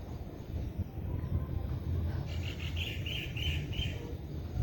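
A bird on a home terrace chirps a short run of repeated bright calls in the second half, moderately close over a steady low background hum.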